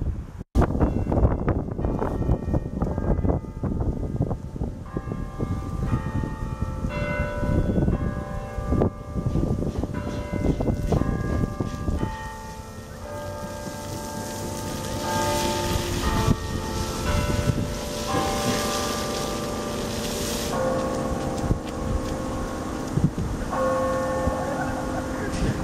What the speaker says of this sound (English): I'm glad I got a chance to hear the bells in action here at the Elliott Tower.